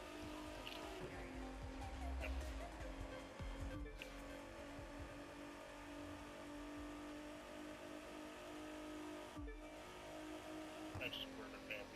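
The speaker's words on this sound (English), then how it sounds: "Unleash that engine." A car engine in The Crew 2 racing game roars and revs steadily near and loud, rising in bursts over a constant game soundtrack, with someone talking over it and brief dropouts.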